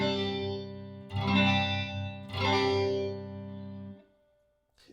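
An electric guitar strums an E-shape sus4 chord three times in a row, each strum ringing out full and sustained before the last one fades into near silence.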